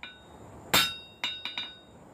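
Hammer blows on steel at an anvil while forging a coal rake: one loud ringing strike followed by three quicker, lighter taps, each with a short metallic ring, close up with no talk.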